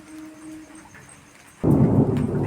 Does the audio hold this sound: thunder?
yes